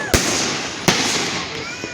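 Two loud Fourth of July firework bangs go off about a second apart, followed by a fainter pop, over a background of crackling and distant voices.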